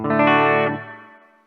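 A distorted electric guitar chord rings out through the reverb of a Mooer GE-series multi-effects processor, then its tail fades fairly quickly into silence.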